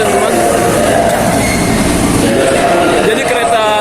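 A JR 205 commuter train at Tanah Abang station gives a loud, continuous rumble with wheel and rail noise throughout, and faint screeching toward the end.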